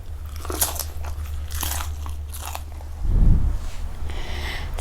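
Biting and chewing crunchy spicy papaya salad with Mama instant noodles: close, loud crisp crunches and wet chewing over a low steady hum, a heavy bite thumping near the end.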